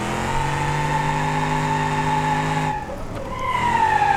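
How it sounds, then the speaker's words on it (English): Rear tires of a Gavril Bluebuck squeal and skid while being smoked around a corner in BeamNG.Drive, a steady loud screech over engine drone that briefly dips near the end. "I'll show you an example right here of not smoking the rear tires around the corner."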